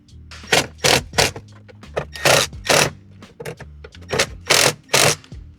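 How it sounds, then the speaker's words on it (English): A car armrest on a G35 center console being worked back into place, giving a series of loud, close plastic scrapes and creaks in uneven bursts, each lasting about half a second. "we'll wiggle our armrest back in here"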